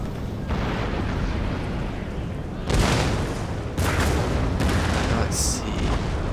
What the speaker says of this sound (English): These cannons are just going to keep firing